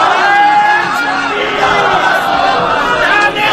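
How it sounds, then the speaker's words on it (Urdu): A large crowd at a religious political gathering in Pakistan chants a slogan together, a loud sustained mass of voices with shouted calls rising over it. "صحابہ کے نام کا ایک نعرہ لگائیے گا۔"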